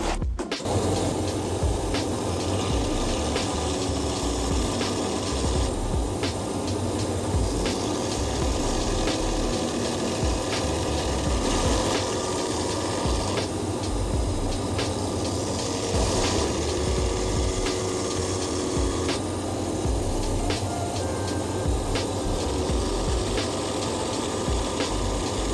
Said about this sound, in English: we're going to groove our channel around our sole here for the stitches to lie in